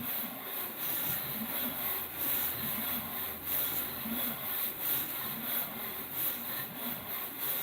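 A Yamaha WR450 motorcycle cylinder head is sanded on 400-grit paper in figure-eight strokes, giving a close, rhythmic gritty rasp that swells and fades with each pass.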